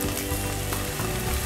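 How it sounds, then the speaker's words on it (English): Fresh fava beans sizzle in a well-used frying pan, giving a close, steady crackling hiss that holds without pause. "hear them sizzling"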